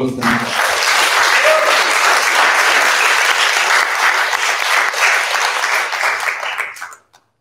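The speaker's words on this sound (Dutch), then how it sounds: "Een groot applaus voor" Loud, sustained applause from a crowd, steady clapping that fades out at the end.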